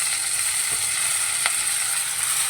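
Mint and coriander leaves dropped into a sizzling tempering of onion, tamarind, chilli, mustard seeds and garlic in a pan: a loud, steady close-up frying hiss with a couple of faint stirring taps.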